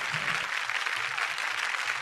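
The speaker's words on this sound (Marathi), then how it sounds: "जोरदार टाळ्या एकदा या सगळ्यांसाठी" Audience at a Marathi powada performance applauding the shahir and his accompanists, a continuous burst of dense clapping from many hands throughout, fairly loud and even.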